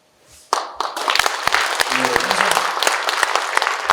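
An audience bursts into warm applause at a talk concert in Daegu honoring the chairman of Korea's Economic, Social and Labor Council; many hands clap densely after a short lead-in, with a brief voice underneath.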